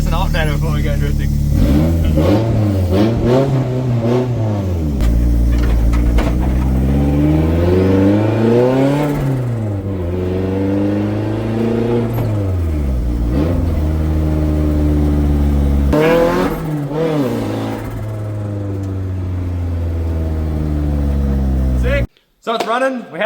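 On a test drive, an SR20-powered KE70 drift car revs repeatedly through rising and falling engine sweeps, loud and close from inside the car, with a voice speaking over parts of it before it cuts out at the end.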